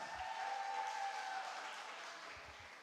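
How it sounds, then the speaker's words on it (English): A debate audience applauds the teams in a soft, even wash of clapping that carries on steadily before gradually thinning out. "So give yourselves a round of applause."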